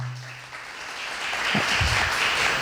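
Clapping rises from an audience at a talk on laser surgery for epilepsy, building from sparse to fuller applause over a couple of seconds, with a low hum at the very start.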